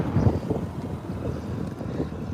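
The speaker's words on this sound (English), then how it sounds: "God, it is windy." Strong outdoor wind buffets a microphone, a low, rough rumble that swells and fades in gusts, with no voices.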